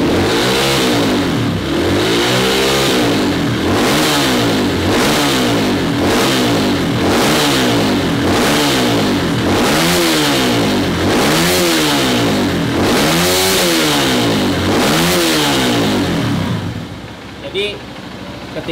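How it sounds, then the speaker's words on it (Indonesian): Stock Honda CRF 150L motorcycle with an aftermarket ECU, engine revved by throttle in about a dozen regular, evenly spaced rising-and-falling blips, loud and close, with someone talking underneath before it settles toward idle. "ketika kalian menarik throttle gas itu, kalau diurut seperti itu akan bersih bro ya suaranya"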